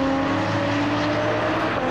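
Classic touring race cars power out of Luffield corner at Silverstone, a loud, steady engine roar with sustained high-revving tones and no break, close and with no commentary over it.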